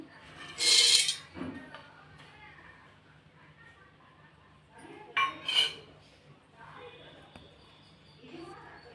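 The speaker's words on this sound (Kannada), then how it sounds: "ಒಂದು ಮಿಕ್ಸಿ ಜಾರ್ಗೆ ಕಡಲೆನ ಹಾಕ್ಕೊಳ್ತಾ ಇದ್ದೀನಿ." Chickpeas clatter into a mixer jar in a home kitchen as masala is prepared for a village-style chicken gravy, two bright rattling pours separated by quiet, with soft kitchen noise between.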